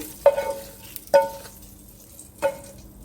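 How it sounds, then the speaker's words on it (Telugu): Tempering is stirred into cooked rice to make curd-rice prasadam, with three separate spoon-scraping strokes against the vessel and a faint sizzle in between, close and fairly quiet. "ఇప్పుడు బాగా పోపు అన్నీ కలిసేటట్టు కలుపుకుందాం"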